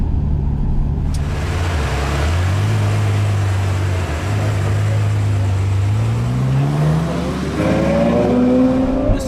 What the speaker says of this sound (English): to be driving the very latest V12 from Ferrari in the motherland at Fiorano